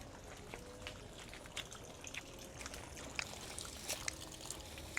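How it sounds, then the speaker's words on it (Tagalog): Water runs from a faucet in a cemetery, a faint, thin trickle and splash with small irregular drips and spatters over quiet background. "binuhay yung gripo."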